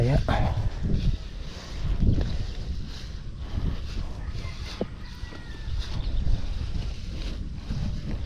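Wind gusts ahead of an approaching typhoon rumble against the microphone in uneven surges, loud low buffeting that rises and falls throughout.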